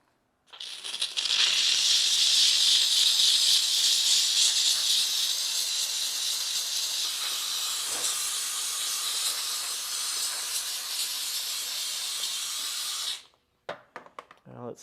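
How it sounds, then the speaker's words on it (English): A steam cleaner blasts a continuous, loud hiss of steam over the engine lines of a Honda Prelude, holding steady for about twelve seconds before cutting off abruptly, followed by a few faint clicks. "we're going to hit it with our steam cleaner"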